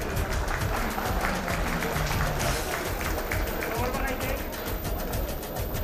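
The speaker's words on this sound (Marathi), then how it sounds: "एकदा जोरदार टाळ्या झाल्या पाहिजे" A crowd at a school annual prize distribution ceremony applauds a student honoured for a karate competition, a loud dense burst of clapping that holds steady and close from start to finish.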